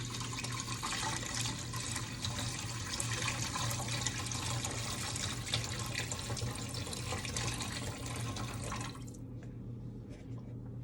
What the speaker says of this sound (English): So we're just gonna pour.